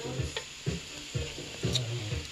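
Onions land on a hot griddle beside burgers flattened with a hamburger press, giving a soft sizzle with several regularly spaced scraping or tapping strokes, fairly quiet and without voices.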